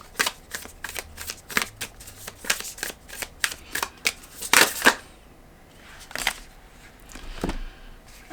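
Energy Archaeology Oracle cards are shuffled by hand in a quick run of close, crisp riffles and taps. A brief lull follows, then a few last card snaps and slaps, with no one speaking.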